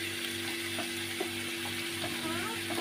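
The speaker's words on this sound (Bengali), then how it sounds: "আমি ভালো করে আরেকবার নেড়ে দিচ্ছি" Rice payesh simmering in a pot while being stirred, soft repeated scraping clicks of a spoon against the pot over a steady cooking hiss and low hum.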